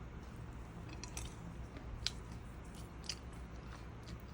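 Food is bitten and chewed close by during a detox diet, giving soft moist crunches and a few sharper bites over a low steady background hum, faint and intermittent, without talk.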